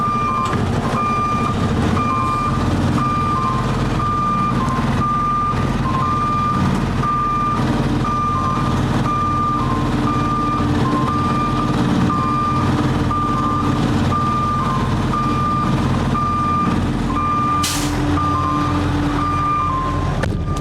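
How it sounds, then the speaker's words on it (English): A truck's reversing alarm beeps steadily in a regular on-off rhythm over a constant engine rumble, continuing throughout. "The backup alarm's gonna go and the door alarm's gonna go."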